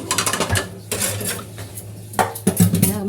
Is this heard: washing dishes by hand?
yes